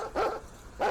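Dogs bark twice in the video game Landlord, two short mid-pitched bursts separated by a brief pause, fairly close and clear with no talking over them.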